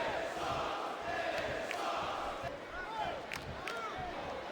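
Wrestling arena crowd from WWE SmackDown Vs Raw 2008 on PS2, a steady roar of cheering and chanting filling the background without letup, with scattered whistles and shouts rising above it.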